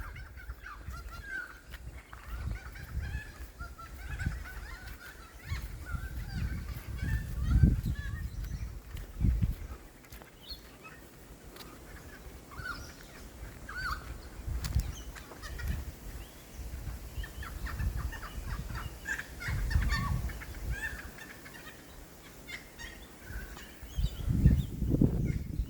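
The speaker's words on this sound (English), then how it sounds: "Listen to the birds." Birds calling in Australian bushland regrown after a bushfire, with scattered chirps and honking, fowl-like calls at moderate distance over a soft outdoor background, no talking.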